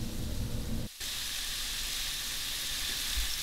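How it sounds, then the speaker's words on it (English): Large deveined, deshelled shrimp sizzle steadily in a hot pan, a close, even frying hiss with a brief dropout partway through and a soft bump near the end. "You just want to saute them a little bit"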